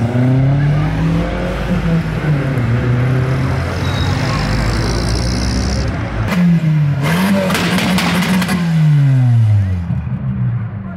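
A Volkswagen Golf leaving a car meet revs hard and accelerates through several gear changes, its engine loud and close, rising and dropping in pitch, with tire noise and some talk in the background.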